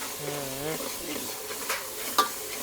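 Onions fry in a pan for a crab and prawn dish, giving a soft continuous sizzle with stirring scrapes and a brief clink. A short voice sounds near the start.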